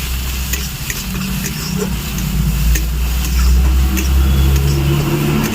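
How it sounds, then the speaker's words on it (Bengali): Apples stirred into a hot pan with cinnamon, giving a steady sizzle and frying crackle beneath a constant low background rumble, with no voices. "এইবার আমি দিয়ে দেবো এতে আপেলগুলো আপেলগুলো দিয়ে একটু নেড়ে নেব"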